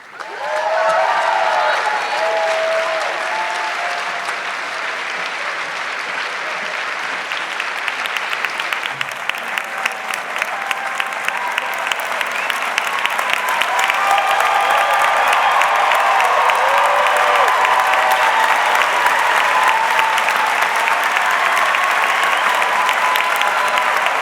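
A large commencement crowd at a nursing school graduation breaks into sustained applause with scattered cheers, a dense steady wash of clapping that swells and holds loud throughout.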